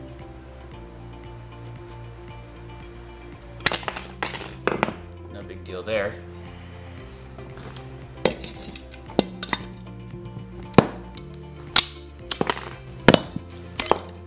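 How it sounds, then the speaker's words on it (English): Tin snips cutting a copper bus bar, with a series of sharp metallic clicks and snaps in irregular bursts, close by, while someone speaks briefly over them. "So let's go ahead and cut the bus bar to length, and then we'll get it punched."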